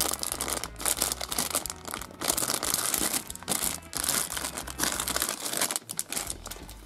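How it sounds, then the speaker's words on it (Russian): Plastic wrapping of a surprise toy packet crinkles and rustles continuously and close up as it is torn open, in irregular crunchy bursts with no speech. "Откроем следующий пакетик."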